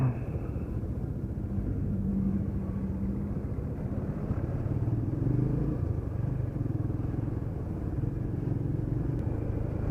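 A motorcycle rides along a rough, potholed road, its low engine drone and rumble steady and close throughout, with bumps and rattles blending into the continuous hum and no talking.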